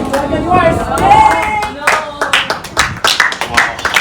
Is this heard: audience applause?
yes